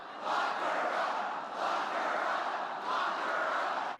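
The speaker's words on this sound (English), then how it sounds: "the crowd breaking into that familiar chant" A large crowd at a political rally shouts a chant in three rhythmic surges, loud and massed, with no single voice standing out.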